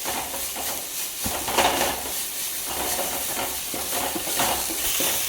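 Garlic paste sizzles in a hot pan for a Ramadan chicken curry, a steady frying hiss close by, broken by scraping strokes of a stirring spoon, with no one speaking.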